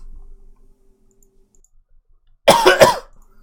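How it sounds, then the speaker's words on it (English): A single person coughs twice in quick succession at close range, a short harsh burst after near silence. "Let me cough."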